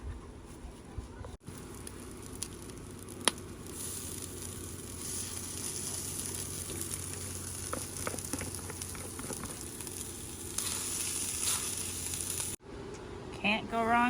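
An egg fries on a camping stove at a lakeside campsite with a steady, close crackling sizzle that runs throughout. A voice talks over it in places.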